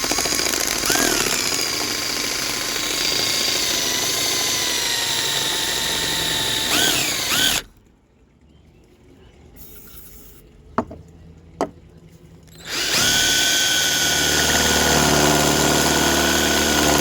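A rotary cutter grinds loudly and steadily into a part for a 196cc engine, stops for several seconds with a couple of sharp taps, then starts cutting again.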